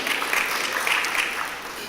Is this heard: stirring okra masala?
no